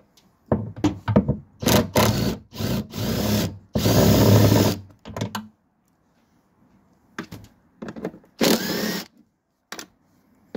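A power tool whirs in a string of short bursts, stopping and starting again with quiet gaps between, as it loosens 10 mm screws on a Jeep Grand Cherokee WJ CRD near the engine and a hatch being cut for injector access.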